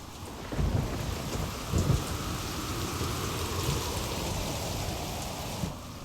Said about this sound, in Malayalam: എട്ട് പകലും 7 രാത്രിയും കൊടുങ്കാറ്റ് വീശി.